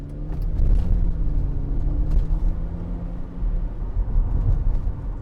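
A 2006 Mercedes-Benz SLK280 with a 3.0 engine runs steadily, making a close, low rumbling idle with a smooth, even drone and slight fluctuations, and no voices over it.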